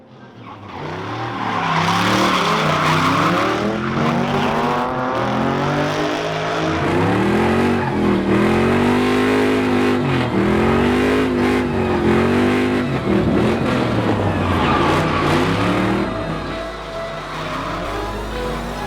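BMW E36 M3 drift car with stock diff sliding, engine revving hard with rising and falling pitch as tires squeal through a long, loud, continuous slide.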